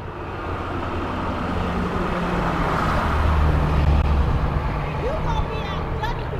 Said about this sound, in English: Wait till the truck goes by.